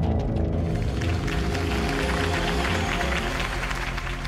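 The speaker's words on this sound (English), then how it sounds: "could have heard that applause" Crowd applause at a political campaign rally in Batman: The Telltale Series, a continuous, fairly loud wash of many hands clapping, with faint cheering in the mix.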